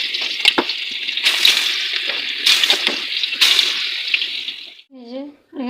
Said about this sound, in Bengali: চলো মাছগুলো দিয়ে ভেজে নিই